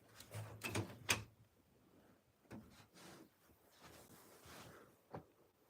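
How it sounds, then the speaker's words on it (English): An ordinary room door is swung shut, giving a few close knocks and rattles near the start and a sharp thud later, with quiet room noise in between. "So let me close this door."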